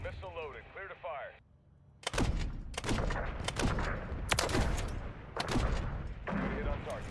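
Missile fire and weapon hits: several sharp loud blasts and booming impacts in irregular succession, preceded by a brief radio-style voice.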